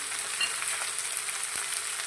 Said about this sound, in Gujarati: તેની સાથે મેં અડધી વાટકી જેટલા વટાણા લીધા છે તે પણ અંદર લઈ લઈશું